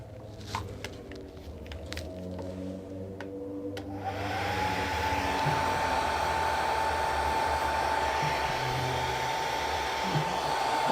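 A hair dryer switches on and blows a steady, loud, close whoosh with a whining hum to dry wet paint on a vintage trunk, after some light handling clicks.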